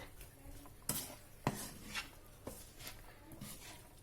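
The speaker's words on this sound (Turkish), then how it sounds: "Şimdi bunu böyle karıştıracağım." Spoon scraping and clinking against a metal pot while stirring Bafra pide filling, a few sharp knocks amid steady rubbing, close and moderately quiet with no talk.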